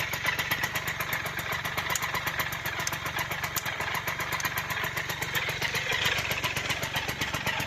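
A Suzuki FZ50 moped engine runs steadily at a fast, buzzing idle, a continuous rapid two-stroke putter heard close and fairly loud throughout.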